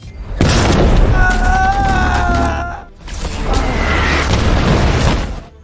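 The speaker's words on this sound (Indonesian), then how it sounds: "sebuah RPG ditembakkan oleh Amir" Loud, dense explosive booms from an RPG rocket blast in a battle scene of a war film about Russian special forces, with a rumbling low roar and sustained crackle across two bursts, plus a brief tonal whine partway through.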